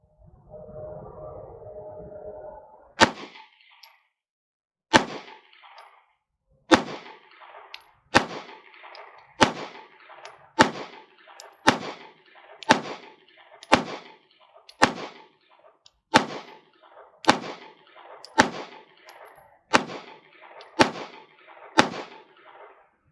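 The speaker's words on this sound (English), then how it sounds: "Alright, we're going to fire 20 rounds." Rounds are fired one by one from a Strike Industries Strike 80 magazine, about seventeen loud, sharp shots in a steady, evenly spaced rhythm with echoing tails, after a brief low hum at the start.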